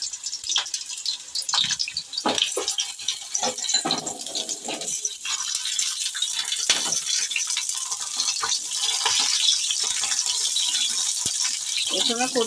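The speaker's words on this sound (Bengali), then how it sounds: "তেলটা গরম হয়ে গেছে, কচুটা দিয়ে দিলাম।" Pieces of taro hit hot oil for a taro and prawn curry, and a bright sizzle builds and holds, with some clattering of the pan and utensils and a voice talking over it.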